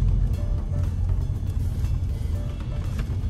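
Interior drone of a still-healthy genuine limousine being driven, a steady low engine and road rumble heard from inside the cabin, continuous and moderately loud with no talking.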